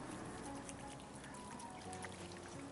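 Water pours steadily to rinse a young child's hands at home, a continuous splashing trickle running close and unbroken for the whole moment with no talk over it.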